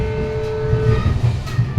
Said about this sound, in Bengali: ট্রেন হর্ন মারল